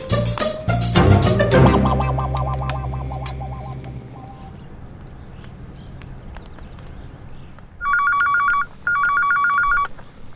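A telephone rings in two electronic bursts near the end, loud and close, after a stretch of music and clattering sounds with no speech over the rings.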